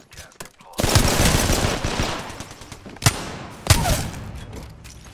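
Close, loud gunfire in the shooter game Apex Legends, in rapid automatic bursts with two sharp, distinct shots standing out later before the firing tapers off.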